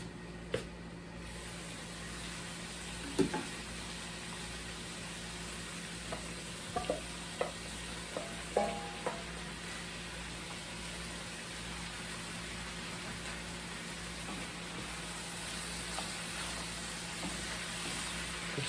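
Okra fries in a pan with a quiet, steady sizzle running throughout, broken by a few soft clicks and knocks of stirring.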